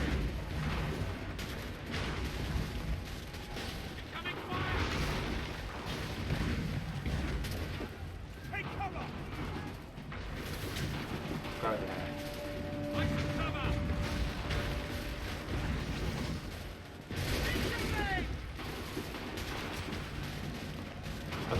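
Cannon fire in Assassin's Creed 3, a dense, rumbling barrage of booming shots and crashes layered over constant battle noise, with a voice speaking intermittently over the din.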